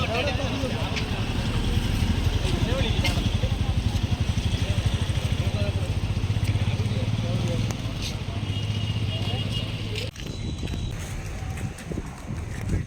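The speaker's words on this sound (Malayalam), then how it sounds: "ഫസ്റ്റ് ബോട്ട് ദോ പോകുന്നു" A diesel fishing boat engine pulls away from Sakthikulangara harbour at night, the first boat leaving as the trawling ban ends, in rain: a steady low rhythmic chugging throbs close and loud under a broad wash of noise and voices.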